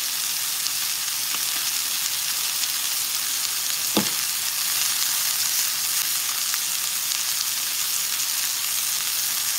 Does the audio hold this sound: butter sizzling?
yes